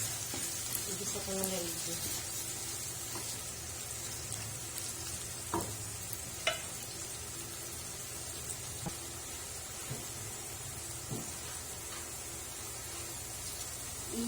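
Ground beef sizzles steadily in a hot pan for a Filipino giniling sauté, a continuous frying hiss broken by occasional clinks and scrapes of a utensil, with a brief spoken word over it.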